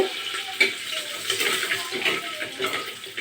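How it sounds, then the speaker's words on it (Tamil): Mustard seeds spluttering in hot oil while rasam is being made: a busy, close crackle of irregular pops and hissing bursts that continues throughout. "கடுகு நல்லா பொரியுது"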